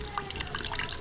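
Water drips and trickles as a wet cloth is squeezed out firmly in a hotel-style idli kitchen, a brief, close, steady patter of droplets without talk.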